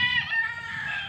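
Bantam non-bearded buff lace chickens in a brood pen, a close rooster-like crow held for about a second, strained and fairly quiet.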